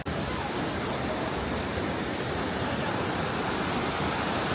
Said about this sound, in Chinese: 我们先看珍珠汤瀑布，